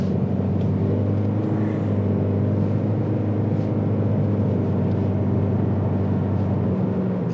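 Inside a moving Toyota Corolla Cross hybrid SUV, 4x4 with 200 hp, the petrol engine runs steadily to charge the battery, giving a constant low drone and road rumble with no one speaking.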